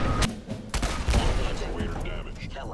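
Gunfire in the game Fallout 4, a burst of sharp loud shots followed by a heavy crack, then lingering rumbling noise, close and forceful.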